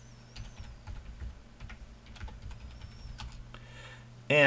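Quick bursts of keystrokes on a computer keyboard, entering a short word at the end of a website address in a quiet room, ending with a louder thump near the close.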